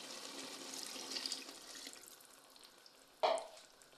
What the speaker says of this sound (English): Now I'm going to add in some water.